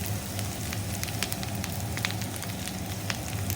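Chili powder sizzles in hot oil as part of a chicken majestic dish, a dense, steady crackle and hiss with faint sharp pops spread evenly throughout, close and fairly loud with no voices.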